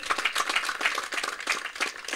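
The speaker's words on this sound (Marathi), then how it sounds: "सगळ्या खेळाडूंना विनंती आहे की एकदा जोरदार टाळ्या व्हायला हरकत नाही" A crowd claps for the players at a prize distribution ceremony for the Friendship Chashak 2025 tournament in Khutarwadi. The applause is moderate and steady, with fairly even, rhythmic hand claps.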